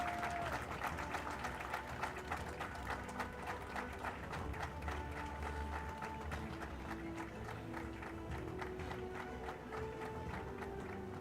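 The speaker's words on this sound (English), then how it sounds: "we have a big round of applause" At a rowing nationals award ceremony, the crowd gives faint, steady, rhythmic applause for the Sri Lanka Army winner of the Open Women's Scull, with a sustained tonal hum running beneath.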